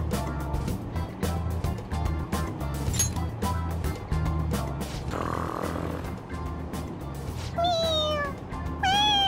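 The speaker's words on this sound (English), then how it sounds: "It meows when you press on its head." A toy cat in the video game Persona 5 Royal meows when its head is pressed, with a couple of short meows near the end. A low, rumbling train-like background runs throughout.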